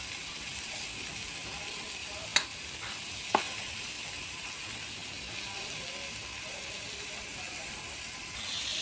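Tomatoes frying in a pan for a monggo (mung bean) dish give a steady, soft sizzle, broken by two sharp scraping clicks of the spoon crushing them, with no voices.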